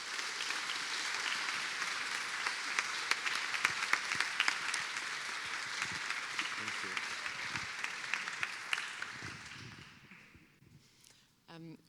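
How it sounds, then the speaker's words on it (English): Big round of applause from a crowd gathered in a Hackney building for a repair-event day, a thick sustained clatter lasting about ten seconds before tapering off, with a voice starting at the end. "So please give yourselves a big round of applause for coming here and being a part of this really important day."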